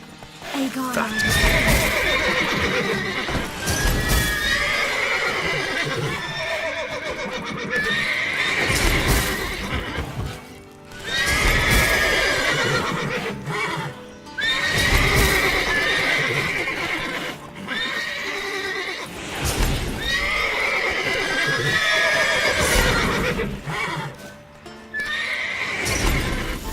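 Agitated horses in The Witcher 3: Wild Hunt give loud, repeated whinnies and neighs in recurring bursts, with hooves clopping and stamping, while a voice speaks intermittently.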